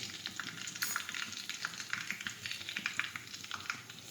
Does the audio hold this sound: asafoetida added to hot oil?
yes